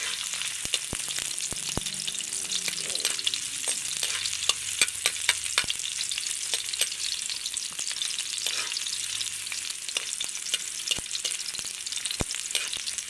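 Onion and garlic sauté in oil in a hot pan while being stirred, a dense continuous sizzle punctuated by frequent sharp clicks of the utensil against the pan.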